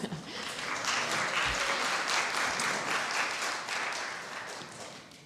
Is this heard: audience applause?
yes